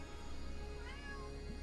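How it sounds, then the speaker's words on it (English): A cat meows in the Arctic Eggs video game, a short wavering call rising out of a steady low background hum. "Cat."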